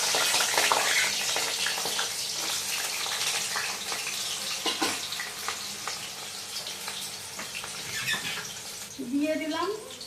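Chopped potatoes frying in hot oil while cooking khichuri at home, a steady bright sizzle with scattered crackles running throughout, close and fairly loud, with a person talking faintly over it.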